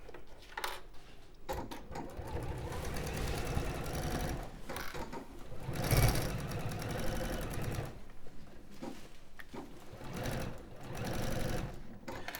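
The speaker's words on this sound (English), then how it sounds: "I'm going to sew again" A sewing machine stitching a patchwork cushion cover runs in rapid mechanical bursts with brief pauses between, a steady close-up whirring and clatter at fairly low volume.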